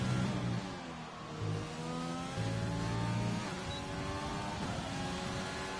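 A Renault Formula 1 car in an F1 video game screams through a hot lap at the Austrian Grand Prix, its engine note high and steady with rising and falling pitch as it shifts, loud and continuous.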